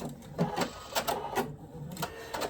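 A sewing machine stitches pieces of a quilt block in short uneven bursts, a close, light mechanical tapping and whirring that starts and stops repeatedly, with no talking.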